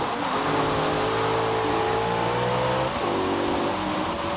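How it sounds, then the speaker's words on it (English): Car engine in the racing game Forza Horizon 3 drones steadily with rising and shifting revs throughout, loud and continuous, with a brief dip in pitch near the end as if changing gear. "I hear an engine right behind me."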